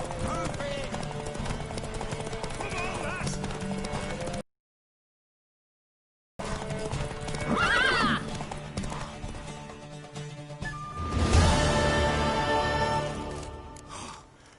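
Galloping hooves pound under game music and sound effects in The Witcher 3: Wild Hunt, a short silent gap, then a horse whinnies loudly; some voices are mixed in.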